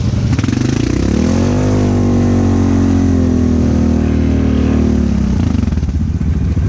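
A stock ATV engine in four-wheel drive revs loud and close, its pitch climbing and holding steady before dropping back to idle near the end.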